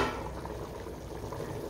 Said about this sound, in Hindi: ये देखिए पानी में उबाल आ चुका है।